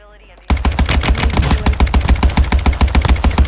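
Rapid gunfire from a semi-automatic Cronin Squall rifle in Warzone 2, with loud close shots cracking in a fast, steady stream after a brief quiet start.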